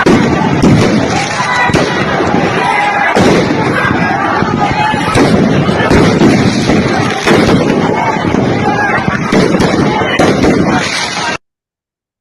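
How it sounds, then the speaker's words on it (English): Fireworks fired by Indonesian authorities to disperse crowds crackle and pop in a dense, continuous barrage of loud bursts and booms, with crowd noise underneath, before cutting off abruptly. "first of all, they use fireworks to try and disperse everybody."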